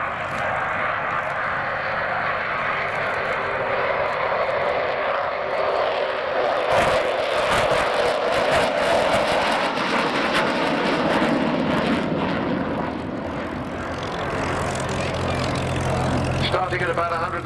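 The Avro Vulcan XH558, a four-engine delta-wing RAF jet bomber, roars past during a flying display at RAF Cosford, a loud continuous engine rumble that swells and shifts while a commentator talks over it.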